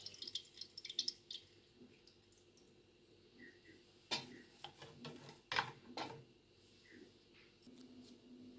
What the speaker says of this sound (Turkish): artık süzme işlemine başlayacağım.